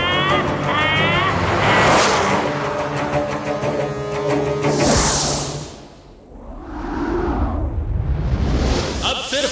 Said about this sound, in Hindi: सभी कारें एक दूसरे को ओवरटेक करती हुई मॉडर्न सिटी के अंदर एंटर करती हैं और स्पीड से सारी कारें मॉडर्न सिटी को क्रॉस कर रही हैं।